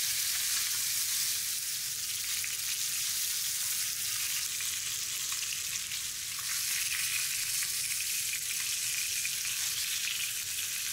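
Pork ribs and butifarra sausage frying in oil in a pan, a steady, dense sizzle with fine crackling that holds evenly throughout, close and fairly loud with no voices.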